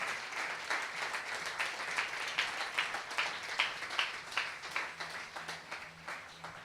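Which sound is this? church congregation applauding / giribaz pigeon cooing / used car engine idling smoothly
church congregation applauding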